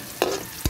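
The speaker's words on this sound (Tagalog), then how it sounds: "So, I'm going to saute the onion and garlic." Onion and garlic sautéing in oil in a frying pan, with a brief sizzle and two quick stirring scrapes, close and short, with no talk.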